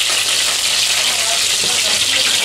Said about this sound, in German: Oh Mann, das spritzt aber auch einmal so doll